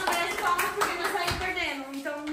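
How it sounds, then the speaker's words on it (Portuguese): People applaud with rapid, steady clapping while voices talk over it throughout. "Palmas pro Gabriel, gente."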